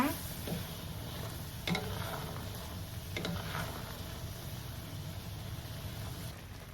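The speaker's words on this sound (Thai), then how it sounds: "มันคนเป็นพักๆ คนเรื่อยๆ คนต่อจน น้ำแห้ง จนน้ำตาลกลายเป็นเกล็ดหิมะเลยนะคะ" Peanuts coated in sugar syrup are stirred in a pan over medium heat, giving a continuous gritty scraping and light sizzle at a steady moderate level, with a few sharper knocks against the pan.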